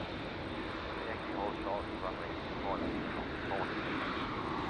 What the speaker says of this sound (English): The beautiful Dreamliner up next to take off, heading back to the wonderful city of Amsterdam.